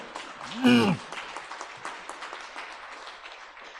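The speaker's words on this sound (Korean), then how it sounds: "특별히 저 이혁재 의원님께는 좀 박수 좀 부탁드릴까요?" Audience applause at an education forum, a brief burst of clapping that rises and fades under ongoing talk from the host, with a loud voice swell near the start.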